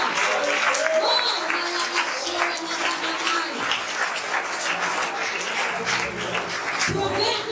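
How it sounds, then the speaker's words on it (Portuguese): A church congregation claps through a continuous spell of applause, moderately loud, with voices and a few brief cries audible beneath the clapping. "Você pode aplaudir o Senhor?"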